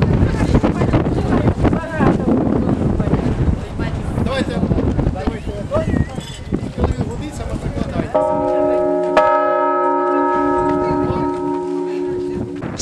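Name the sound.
newly consecrated church bell being rung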